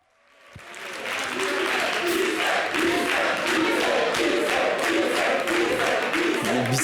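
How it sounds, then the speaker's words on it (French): A concert audience applauds singers with dense, sustained clapping mixed with cheers, swelling in after a brief lead-in and staying loud and steady throughout. "Merci d'applaudir."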